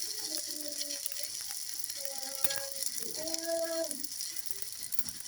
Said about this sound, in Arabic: درت 7 في المقله. غنبدا نقلبهم.